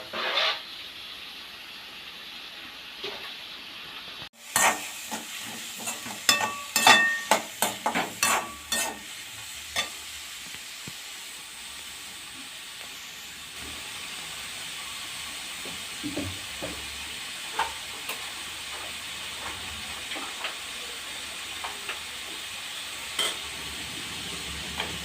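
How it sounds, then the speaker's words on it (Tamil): Shallots frying in oil in a pan for a home-made mutton kola ball dish, a steady sizzle with a burst of clattering spatula stirring near the start and scattered scrapes and taps later, close and with no talking. "சின்ன வெங்காயத்தை ஆட் பண்ணியாச்சு."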